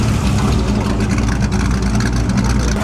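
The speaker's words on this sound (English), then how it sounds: "Boy, does that engine sound strong." A strong Ferrari 340 America engine running loudly and steadily nearby, a constant deep rumbling drone with no speech.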